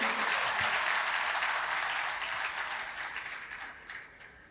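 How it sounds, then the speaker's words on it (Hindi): Audience applause for the poet Zehra Nigah at an Urdu literary conference, a dense, steady wash of clapping from a large crowd that slowly fades toward the end. "कितनी तालियां बजानी चाहिए अपने ऐज की सबसे बड़ी शायरा के लिए।"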